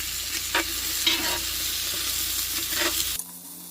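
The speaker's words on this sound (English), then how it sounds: "Now we want to cook this until the onions are translucent." Onions fry in a pot for South Carolina barbecue hash, giving a continuous close sizzle with a few scraping stirs, before the sound drops off abruptly near the end.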